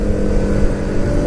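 A 2018 Yamaha MT 125 motorcycle engine runs at high RPM, giving a loud, steady, buzzing drone close by with no voices.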